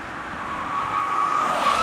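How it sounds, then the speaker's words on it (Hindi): A car pulling in to park gives a steady engine and tyre rush that swells slightly, with a faint high tyre squeal over it; close by, with no voices. "गौतम, गाड़ी पार्क कर दो।"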